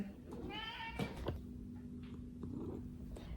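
A domestic cat meows in a short rising-and-falling call, close and fairly clear, over a steady low hum and background noise on a ride in a minibus.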